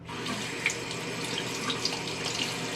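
Tap water running steadily from a faucet and splashing over fingers at a bathroom sink, a close, even rush with small splashes and no talking.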